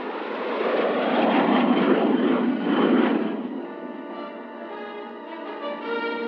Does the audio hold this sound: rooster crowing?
no